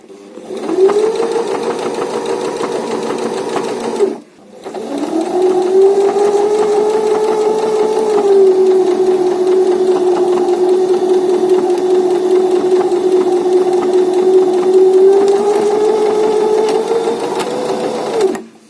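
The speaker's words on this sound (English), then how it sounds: "Just back stitched at the end to tie it off." A sewing machine stitches fabric for a triangle rat hammock in a fast, steady whirring run. It stops briefly after about four seconds, then runs again evenly until it finishes and ties off with a backstitch, with no talking.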